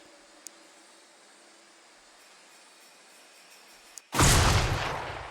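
A grenade goes off in the turn-based strategy game Xenonauts, one sudden loud blast that erupts out of quiet ambience and rolls away slowly in a long fading tail.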